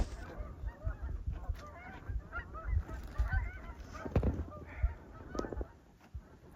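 Many geese honking together in a busy flock, overlapping calls rising and falling with some low rumble underneath.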